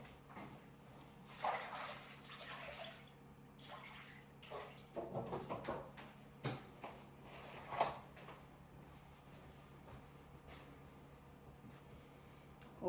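Hands rinsed under a running kitchen tap while making meat loaf, a soft steady water flow with splashes, faint rubbing and a few bumps and clunks nearby, quiet and without speech.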